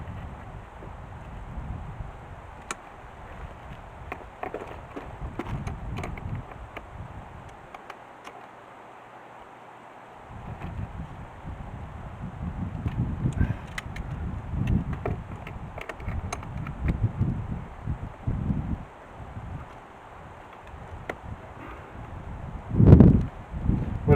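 Wind buffets an outdoor microphone while an outside tap is fitted to a stable wall. It comes as low, uneven rumbling gusts that rise and fall, with a brief near-silent gap early on and a sharp, heavy blast near the end.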